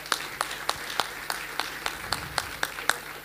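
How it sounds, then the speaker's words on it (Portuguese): Audience at a regional sports gala applauding, with sparse, evenly spaced claps from a small number of people, faint and somewhat distant in a hall. "E pedia uma salva de palmas, se a favor."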